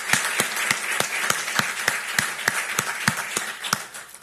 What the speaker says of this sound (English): So please give them a round of applause here.